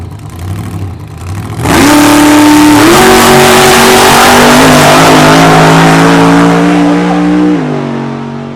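A 1,400 horsepower drag race car revving hard at the strip, a sudden loud roaring engine that holds and climbs in steps for several seconds, close and dominant over a dull crowd background.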